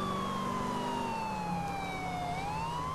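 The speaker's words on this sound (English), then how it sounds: "Here, let's just use the sirens." A police car siren wails steadily in Grand Theft Auto IV, a loud continuous tone sliding slowly in pitch over engine noise, with no talking.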